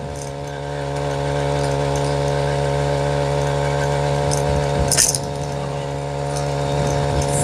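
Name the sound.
4-stroke motorized BMX bike engine riding on streets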